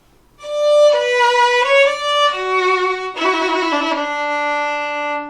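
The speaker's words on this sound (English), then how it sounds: "explain the mechanics of trills with slurred grace notes" A solo melodic instrument plays sustained tones broken by rapid trills with quick slurred grace notes, clear and close, with no talking.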